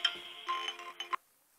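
A phone ringback tone during an outgoing call to a boss: a steady electronic ring with a few pulsed bursts, fairly faint, cutting off abruptly into silence.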